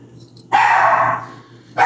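A dog barks at an exterminator indoors, two loud close barks, the first sustained and trailing off, the second starting just as the sound cuts.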